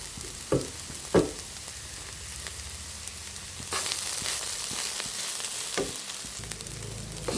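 Coconut thoran fries in a pan with a soft, steady sizzle, broken by occasional sharp clinks and scrapes of a spoon stirring. The frying grows a little louder partway through.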